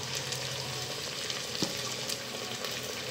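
Spices sautéing in a pan of oil for a basmati pulao, a soft, steady sizzle with faint stirring scrapes, quiet and continuous throughout.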